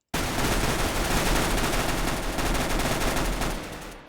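Video game gunfire sprayed into smoke, a dense, loud, unbroken burst of rapid automatic shots lasting about four seconds, then tailing off.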